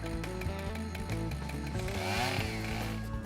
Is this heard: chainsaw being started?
yes